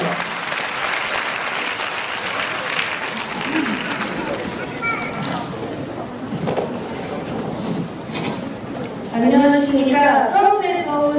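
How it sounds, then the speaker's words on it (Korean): Audience applause welcoming a French guest speaker at a Korean-language speech contest for foreigners, a steady dense clatter of many hands that runs throughout, with talk and crowd murmur mixed in near the end. "박수로 환영해 주십시오"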